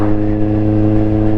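Kawasaki Z1000R motorcycle with exhaust baffles removed, a loud, close, deep steady engine drone with strong harmonic layers holding at near-constant revs.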